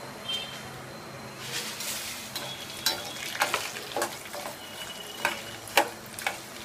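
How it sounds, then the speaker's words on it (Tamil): Moong dal and rice roasting in ghee for paal payasam, stirred in a pan, with soft sizzling and repeated light scraping strokes of a spoon, quiet and close. "அந்த நெய்யில் பயத்தம்பருப்பையும் அரிசியையும் நல்லா பொரிக்க வறுத்து எடுத்துக்கணும்."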